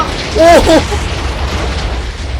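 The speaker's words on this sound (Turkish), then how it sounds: "Abi patladı. Eviniz patladı." A deep booming blast from a house exploding in Minecraft rumbles briefly near the start, followed by a low steady background roar.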